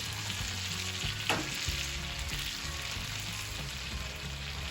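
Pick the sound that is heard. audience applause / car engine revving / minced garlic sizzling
minced garlic sizzling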